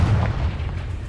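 A Confringo fire spell bursts in the Hogwarts Legacy video game, a heavy, booming explosion with a deep rumbling low end that rolls on steadily through the short moment without any voice.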